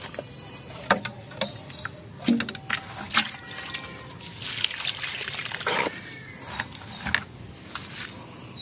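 Water trickles and splashes in uneven bursts, pouring onto soil and leaves of trees, including mango, close by, with faint birdsong in the background.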